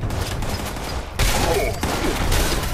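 Gunfire in the video game Fallout 76 rattles as a dense, continuous fusillade of rapid shots, loud and sustained, with a short break before it resumes.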